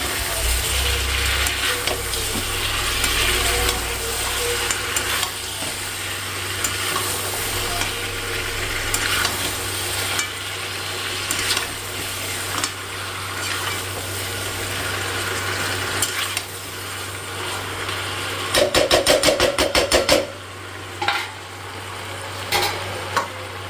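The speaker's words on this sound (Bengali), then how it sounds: "এবার জলটা দিয়ে দেবো" Hot water poured into a pot of sautéed duck and chicken curry, a steady loud sizzle with stirring and metal scraping, then a brief burst of rapid rattling clicks near the end.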